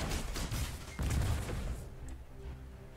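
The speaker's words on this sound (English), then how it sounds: "this is just gonna spit out bullets rapid fire" A rapid-fire gun in the game MotherGunShip spits out quick bursts of bullets, crackling volleys close by that fade toward a quieter tail near the end.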